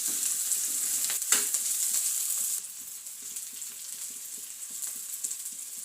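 Green chillies frying in hot oil in a pan for a dill leaf vegetable dish, a bright crackling sizzle with a stirring clatter, then a quieter steady hiss.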